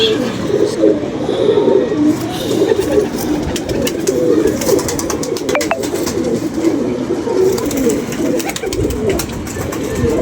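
A flock of pigeons keeps up continuous low cooing nearby, layered and unbroken, with only faint hints of voices.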